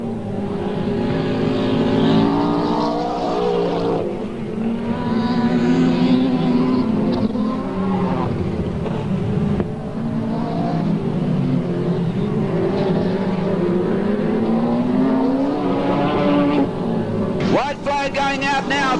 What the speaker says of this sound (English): Final run around the circuit, looking for yet another win in the speed car division at PCR.